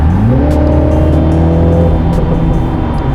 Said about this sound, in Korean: 여기서 가속 페달을 살짝 살짝 밟아보면 배기 사운드, 가변 배기 사운드가 들려요.